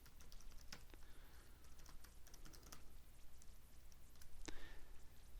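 Quiet, steady keystrokes on a computer keyboard as an email address is entered into a store login form, a soft run of clicks heard alone.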